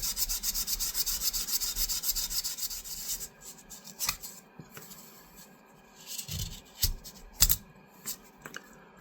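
Cleaner being rubbed by hand into both sides of a vintage camp knife handle at once, steady scratchy rubbing strokes that fade into quieter, sporadic scrapes and taps, close up, with no talk.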